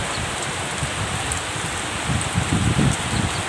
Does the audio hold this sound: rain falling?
yes